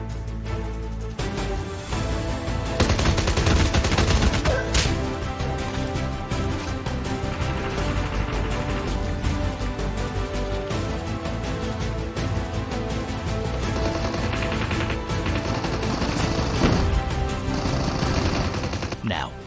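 Rapid gunfire from the mobile battle royale game Call of Duty Mobile, loud and near, with bursts of shots running continuously over game music and effects, no talk.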